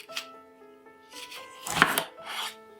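Knife cutting through apples into quarters on a board, a few crisp chopping strokes with a louder cut near the end, close and fairly quiet, with no talking.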